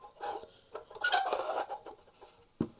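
The metal pot stand of a vintage French alcohol stove scrapes and clicks as it is screwed onto its thread, making faint, close metallic rattling and grinding, ending in a sharper knock.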